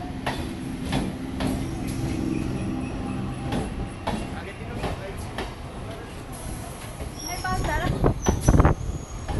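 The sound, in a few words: train passing at a station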